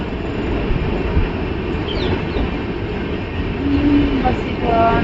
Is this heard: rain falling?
no